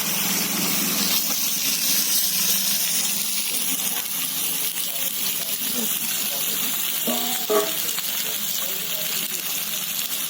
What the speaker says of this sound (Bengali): একবারে ছবি লেভেলে কষানো হচ্ছে, সময় লাগবে।